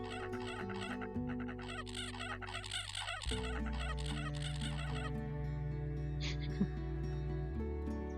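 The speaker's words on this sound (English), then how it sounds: "Ducks make funny noises." Duck calls from the board game Wingspan in digital form, a series of honking, quacking bird cries in quick rhythmic bursts over steady background music, loud and close throughout.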